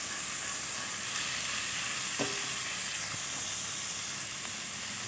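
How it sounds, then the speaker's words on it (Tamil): Onion and curry leaves frying in a pan for drumstick thokku, a steady close sizzle and hiss with an occasional faint clink of a spoon against the pan. "வெங்காயம் கருவேப்பிலை நல்லா ஒரு பரட்டிக்கலாம்"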